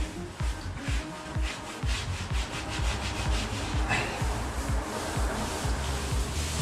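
A sponge wipes excess grout off a tiled floor, making repeated rough scrubbing strokes in a quick back-and-forth rhythm, close and moderately quiet.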